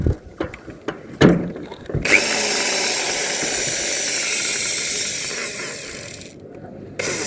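Power drill boring holes in a corrugated metal roof sheet for mounting solar panels, with a few sharp knocks followed by about four seconds of steady, close, loud whirring grind that then cuts off.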